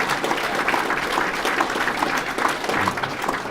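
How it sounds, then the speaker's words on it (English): Guests at a First Pitch dinner applaud the Vincentians, continuous dense clapping from a room full of people, steady and fairly close throughout. "How about a round of applause for this Vincentians ever present at the campus."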